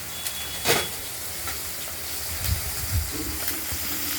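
Bata fish fries in a pan with a continuous close sizzle, broken by a few soft knocks and shuffles as the pieces are moved.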